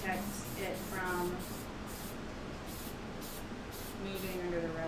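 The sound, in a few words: spraying archival spray coat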